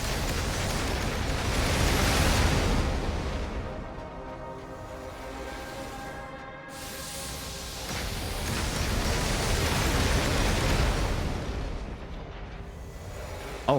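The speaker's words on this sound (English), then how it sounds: "God damn, that's big explosions, dude." Big explosions in the video game AI Limit, a loud rumbling, sustained blast texture that swells and fades in waves, with a brief dip midway and a sharp burst at the very end.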